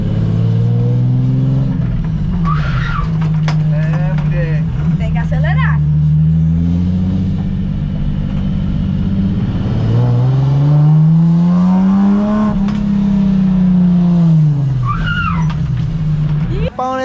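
A car is taken out for a drive, its engine revving in repeated rising and falling surges with a possible brief tire skid, and several people talk and exclaim loudly over it throughout.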